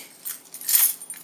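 A bunch of keys clipped on a carabiner jangle briefly up close, a couple of quick metallic shakes with no talking.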